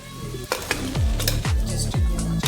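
Broccoli, potatoes and peas fry in a pan for an aloo matar dish, a steady close sizzle broken by several sharp scraping stirs of a utensil against the pan.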